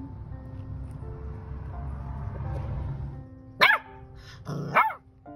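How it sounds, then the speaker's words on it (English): After a few seconds of low background noise, a puppy barks twice, loud and close, with a short pause between the barks. "Why you keep barking at me?"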